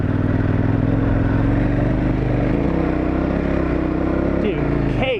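A dual sport motorcycle fitted with Mitas E-10 Dakar tires revs hard and continuously as it climbs a powdery, rocky hill, engine loud and close with gravelly clatter from the tires underneath.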